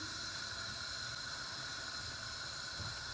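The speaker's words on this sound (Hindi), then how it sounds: "अब ज़ीरे में से क्रैकलिंग की आवाज़ भी आ रही है।" Whole cumin seeds frying in half a cup of hot oil in a cooking pan over a medium flame give a steady, even hiss with faint crackle, continuous and close.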